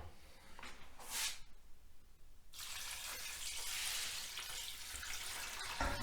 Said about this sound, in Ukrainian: Тобто горішки заливаємо водою.